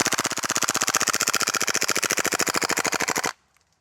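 A KWA Tac-9 airsoft gun fires full auto through a whole magazine, a rapid, even stream of sharp mechanical cracks lasting about three seconds before stopping abruptly into near silence.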